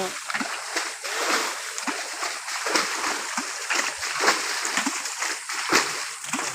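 Water splashing and sloshing hard during fish catching in a canal, a steady broadband spray with repeated bursts throughout, close and fairly loud, with voices faintly mixed in.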